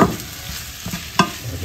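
Sautéing in a pan for ginataang langka gives a soft, steady sizzle. A few sharp spatula scrapes and stirring knocks sound close by, and no one speaks.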